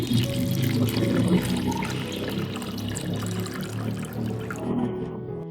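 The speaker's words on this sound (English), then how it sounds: "carefully remove it and pour the mixture into a small cup" Liquid pours steadily into a small cup, a continuous splashing trickle of an orchid-reviving mixture, close and moderately loud, tapering off near the end.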